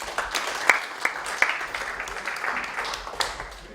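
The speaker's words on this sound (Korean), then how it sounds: "박수로 환영해 주시죠." Welcoming applause from a church congregation at a thanksgiving worship service, moderate scattered clapping with a few sharper claps standing out, fairly distant and steady over several seconds.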